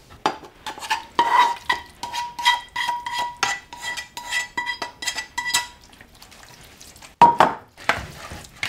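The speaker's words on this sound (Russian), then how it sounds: "После того, как овощи потушились, добавляем их к рыбе и перемешиваем." Stewed vegetables stirred into fish in tomato sauce for home canning, heard as a run of rhythmic metallic scrapes and clinks of a spoon against the pot, close and fairly loud, with a pause near the end before one more scrape.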